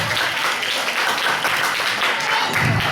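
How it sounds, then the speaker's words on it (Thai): Applause for the performers of a student stage piece, the crowd clapping steadily and fairly loud throughout, a dense continuous patter with no break. "ปรบมือให้กับนักแสดงสาม"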